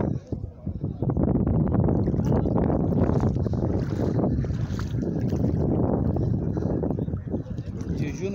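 Motorboat ride at sea off a sandbar at Praia dos Carneiros, with a steady loud engine-and-wind roar rushing past the microphone throughout, and voices talking over it.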